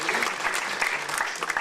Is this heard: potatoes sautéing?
no